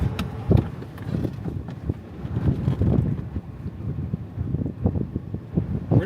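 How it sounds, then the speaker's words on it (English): Strong wind gusts buffet the microphone during a Texas storm chase, a loud, continuous roaring rumble that swells and surges with irregular thumps and no clear speech. "Pretty strong inflow. It is. I'm gonna take my hat off. Whoa! Whoa! That's a gust."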